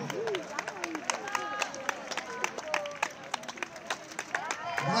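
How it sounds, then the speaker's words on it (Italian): Outdoor crowd at a 10 km race finish during a town festival claps steadily in scattered, overlapping applause, with voices and chatter mixed in. "Bravissima, un applauso."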